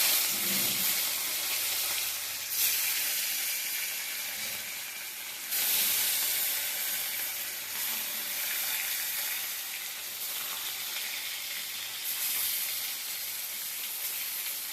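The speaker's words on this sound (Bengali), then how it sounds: "তেলটা ভালোভাবে গরম হয়ে গেছে, মাছগুলো ছেড়ে দেবো।" Katla fish pieces slide into hot oil in a pan and fry with a strong, continuous sizzle and hiss that swells in a few bursts as the pieces settle.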